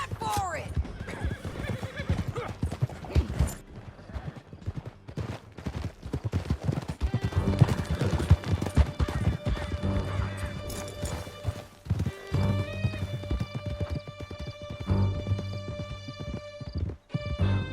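Horses gallop in Red Dead Redemption 2 with rapid, close hoofbeats and occasional neighs while voices talk over the ride and faint gunfire sounds in the background.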